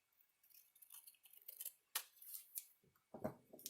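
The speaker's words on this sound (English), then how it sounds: "I'm again going to just cut off this top bit and save it" Scissors snip through paper to trim the top off a blue journal tag, a few close, crisp cuts followed by light rustling and handling of the sheet, with no talking.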